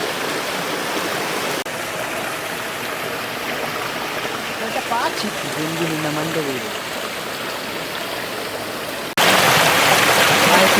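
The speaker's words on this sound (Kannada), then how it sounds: "ಎಂತ ನೀರು ಬೀಳ್ತುಂಟು ಗಾಯ್ಸ್ ಎಂತ ಶಬ್ದ" Water falling from a height in a forest waterfall near Indrali, a loud continuous roar that swells sharply near the end, with someone talking over it.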